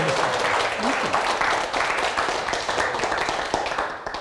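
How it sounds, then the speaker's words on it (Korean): Lecture hall audience at a university CEO course breaks into brisk applause, a dense patter of hands that gradually tapers while a voice murmurs faintly beneath. "동의하시면 박수로 마무리하도록 하겠습니다"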